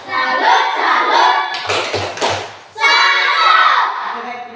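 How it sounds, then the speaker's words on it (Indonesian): Children clap their hands in unison in a classroom, a short burst of several sharp claps in a quick rhythm between bouts of loud, chanting children's voices. "Mari kita tepuk tangan dulu."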